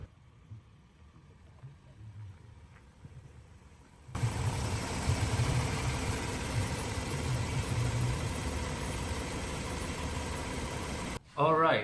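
A 3.7-liter V6 gasoline engine in a 2018 Ford Transit 350 HD box truck turns over and settles into a steady, fairly loud idle, running evenly until an abrupt cut near the end.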